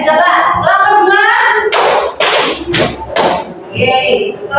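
A classroom group claps a short rhythm pattern in Indonesian school arts lesson, several sharp loud claps in a row with a teacher's voice talking before and after.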